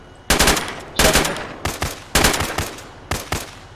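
Gunfire in a military video game comes as four quick, loud bursts of automatic fire, each a tight cluster of sharp cracks separated by short gaps.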